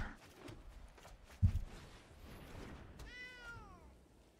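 A cat meow sound effect from the MTG Arena digital card game sounds once near the end as a single clear rising-and-falling meow, after a brief soft thump and quiet background game audio.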